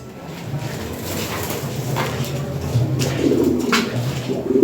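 A pair of Lahori Sirazi pigeons of European bloodline coo close by in soft rolling bursts over a low steady hum, with a faint clack or two near the end.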